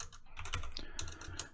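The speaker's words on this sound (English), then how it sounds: "and I'll exit from, if I can type exit properly here." Quick bursts of keystrokes on a computer keyboard as a command is typed into a shell, close and clear, with uneven clicks and short pauses between them.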